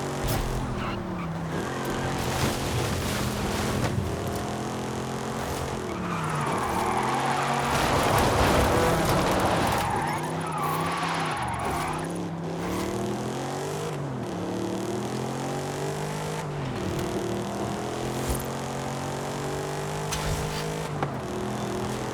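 A Ferrari in the Forza Horizon 5 video game cruising along a highway, its engine droning steadily for the whole stretch with repeated rising and falling revs as the car shifts and accelerates, loud and continuous.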